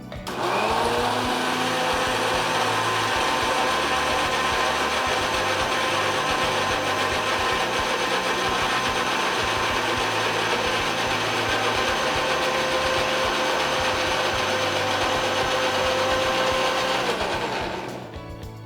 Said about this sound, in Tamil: இப்போ அடிச்சுக்கலாம்